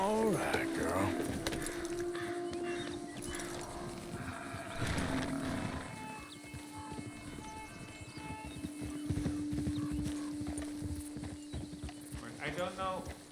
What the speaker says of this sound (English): I hear a horse running.